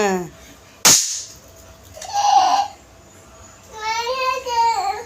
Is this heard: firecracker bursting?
yes